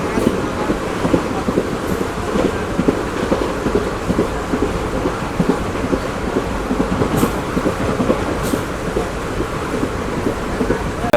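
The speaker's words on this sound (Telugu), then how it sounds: "ఆ ట్రాక్ సౌండ్ చూడండి అసలు ఎంత బాగుందో," Express train 17408 Pamani Express (Mannargudi to Tirupati, via Tiruvannamalai) rolling on rail track, a loud, steady rumbling roar with faint repeated wheel clacks throughout, heard from on board with no talking.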